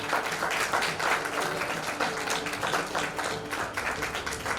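Crowd applause at a felicitation ceremony where a ponnadai shawl is presented, sustained dense clapping from many people, moderately distant and even in level throughout.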